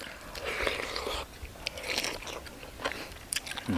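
Close, quiet crunchy chewing of sour pickled caper leaves eaten with grilled catfish, irregular crisp bites and soft mouth sounds with no talk.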